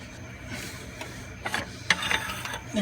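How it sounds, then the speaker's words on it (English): A 3/8 ratchet wrench works the belt tensioner of a 5.7L Hemi engine, giving a few close, light clicking ratchet pawl bursts over a low mechanical background, loudest near the end. "the tension on the tensioner with that 3/8 wrench again inside of that square hole."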